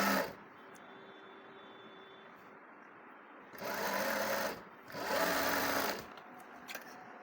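A sewing machine stitches gota trim onto a kurti in two sustained bursts, each about a second and a half, separated by a short pause, with quiet room tone before and a few small clicks after.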